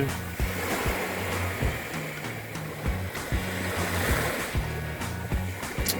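Sea wind and breaking waves at Ban Krut beach roar in a loud, continuous wash, with gusts buffeting close by and repeated low thumps throughout.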